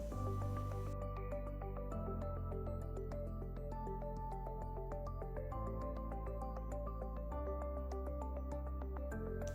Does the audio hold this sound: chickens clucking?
no